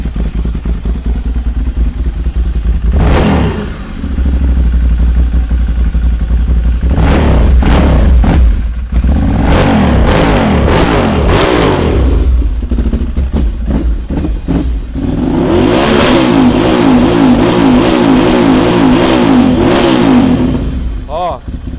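A modified motorcycle with an aftermarket throttle and switch housing revs hard in repeated loud, close bursts separated by idling. Someone talks between the throttle blips.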